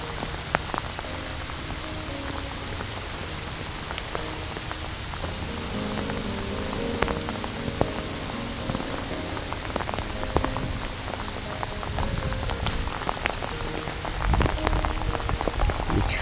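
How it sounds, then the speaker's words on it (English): Heavy rain pours steadily onto water and foliage during a carp fly-fishing outing, a dense, continuous hiss with scattered sharper drop impacts, rising slightly louder near the end. "it is raining hard"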